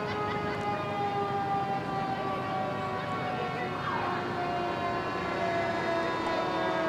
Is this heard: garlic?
no